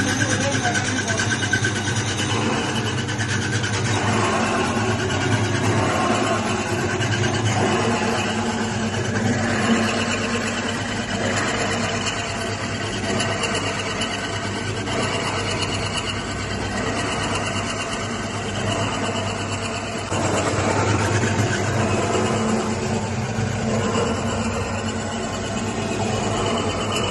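A wet grinder machine runs steadily while grinding rice into batter, a continuous mechanical rumbling drone with rhythmic churning texture throughout, fairly loud and close, with a person talking over it at times.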